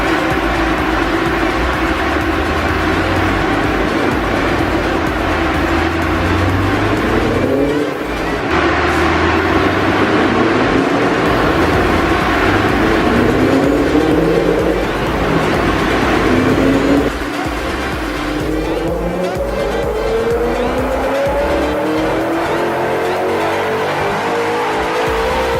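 A supercharged BMW M5 strapped to a dyno with cooling fans running roars through a slow, continuous pull, engine tone sweeping upward in long rising passes over a constant heavy drone, loud and close throughout.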